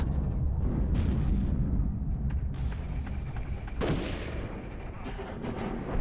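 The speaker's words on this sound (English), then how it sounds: "Those cannons will destroy them." Cannons fire in the Iron Harvest video game, heavy rumbling booms rolling continuously beneath a dense wash of battle noise, loud and close, with no clear speech.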